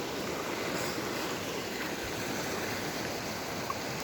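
A small stream flows with a steady, soft rushing babble, continuous and unbroken, with no voices.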